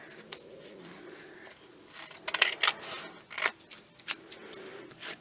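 Scissors snip paper while a handmade wallet is trimmed, giving a string of short, close, crisp cuts that come in small bursts, loudest in the middle, with light rustling between them.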